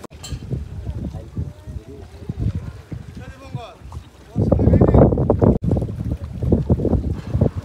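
A boat ride on open water heading to Mousuni Island, with breeze buffeting the microphone and steady engine and water rumble throughout, growing louder and rougher midway.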